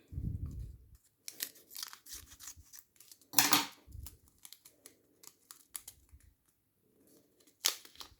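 Soft crinkling and tearing of a small packet of viola seeds being opened, with a few scattered sharp rips and rustles in a quiet room.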